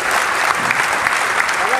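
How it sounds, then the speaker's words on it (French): Audience applause fills an award ceremony hall, a dense, steady wash of clapping that stays loud and even from start to finish. "Sous vos applaudissements,"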